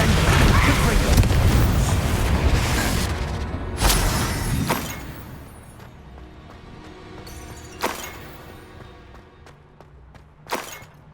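Confringo fire blast spell from the Hogwarts Legacy video game: a loud, broad roaring burst of fiery energy at the start, followed by a few sharp cracking impacts and a quieter rumbling tail.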